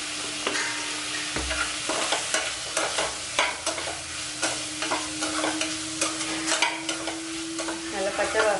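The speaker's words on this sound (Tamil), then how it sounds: "நல்லா பச்சை வாசம் போகிற அளவுக்கு நல்லா வதக்கிக்குவோம்." Spices and tomatoes sauté in a pan with turmeric and salt, a continuous close sizzle broken by frequent sharp scrapes and clacks of a ladle stirring, no talk.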